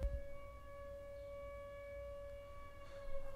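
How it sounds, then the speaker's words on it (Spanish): A village volunteer fire brigade siren wails steadily, holding a sustained tone throughout, somewhat distant, over low background rumble, with no one speaking. "Ahí ven la sirena, esto no es ninguna alarma, son los bomberos voluntarios del pueblo"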